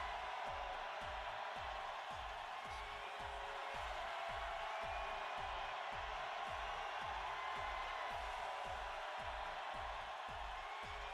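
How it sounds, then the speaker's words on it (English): A wrestling arena crowd in Fire Pro Wrestling World makes a steady, dense roar that carries on throughout, with a regular low rhythmic thumping beneath it. "Even the crowd has a slightly different sound to it."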